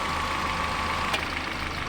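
A rebuilt engine runs at a steady low idle, close and moderately loud, a continuous rumble with a faint tonal hum and one brief click partway through.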